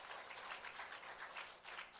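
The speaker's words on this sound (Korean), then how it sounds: "우리 성가대들 위해서 격려의 박수 한번 할까요?" Church congregation applauding the choir during a Sunday service, a dense, even wash of many hands clapping together, fairly distant and soft, continuing steadily throughout without any voices.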